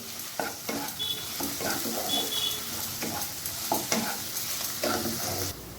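A garlic and green chili spice paste sizzles and fries in a pan while a utensil stirs and scrapes it repeatedly, close and steady throughout.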